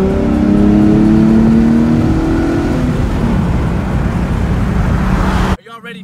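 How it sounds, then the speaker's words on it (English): A 2015 Nissan 370Z launches hard with traction control off, its engine roaring loudly and rising in pitch as it accelerates, then cutting off abruptly near the end as a voice briefly speaks. "I'll take out traction control and show you guys how it launches"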